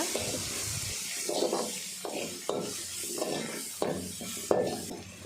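Greens masala with red chilli powder being sautéed in a pan, a steady hiss broken by repeated scraping stirs of the spoon at a close, moderate level.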